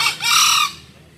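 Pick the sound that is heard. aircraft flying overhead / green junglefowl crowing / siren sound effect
green junglefowl crowing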